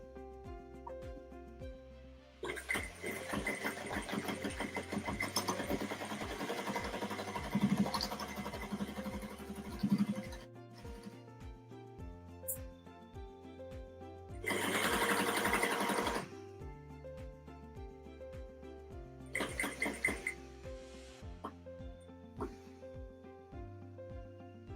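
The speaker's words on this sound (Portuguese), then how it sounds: "vou passar uma costurinha bem em cima da onde eu já fiz" Home sewing machine stitching a zippered baby clothes maternity bag, running in several close bursts with pauses between, bright clattering whir over a faint background hum.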